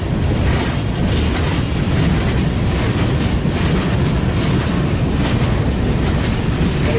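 A CSX freight train rolls past with its rail cars, a loud, continuous rumble and clatter of wheels on track filling the whole stretch up close.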